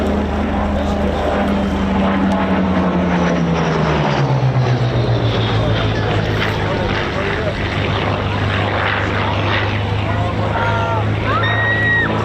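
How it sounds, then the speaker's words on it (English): Supermarine Spitfire EE602 running in low at the Old Buckenham airshow, its propeller engine roaring steadily and close, the pitch dropping as it passes around midway, with a commentator talking over it throughout. "Running in now to give us an idea of just how manoeuvrable the Spitfire can be."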